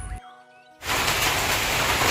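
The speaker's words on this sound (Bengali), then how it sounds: "এদিকে আবার বৃষ্টিও শুরু হয়েছে ধামাকাদার" Heavy rain starts abruptly after a brief quiet and becomes a dense, loud, steady hiss that fills the rest of the moment.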